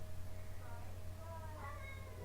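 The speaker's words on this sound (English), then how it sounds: "my cat is howling" A pet cat howls with drawn-out, wavering meows that rise toward the end, faint and set against a low steady hum in the room.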